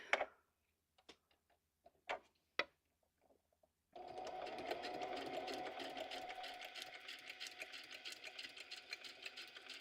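Sewing machine stitching pockets for a junk journal: after a few scattered soft clicks and taps, the machine starts up and runs steadily in a rapid, continuous rattling hum for the rest of the clip, close and moderately loud, with no talking.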